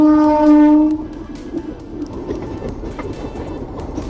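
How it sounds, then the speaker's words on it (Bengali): A train horn blares loudly for about a second, then the rumble and clatter of passing rail cars carries on steadily. "আগে ট্রেনটা যাক"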